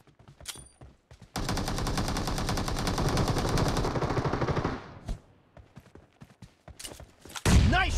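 Rapid automatic gunfire from PUBG Mobile (BGMI) rattles in one sustained, loud burst lasting several seconds, followed by scattered single shots and game sounds.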